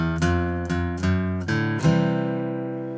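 Acoustic guitar plays a bluesy walk-up intro to Alberta with four or five plucked notes rising in steady succession, then a final chord that rings out and slowly decays, heard close and clear with no talking.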